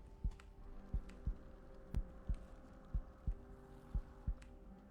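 A loud heartbeat effect in a video game thumps steadily at about two beats per second, soft and low beneath a faint steady hum, with no talking.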